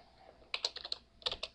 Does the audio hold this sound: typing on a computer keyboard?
yes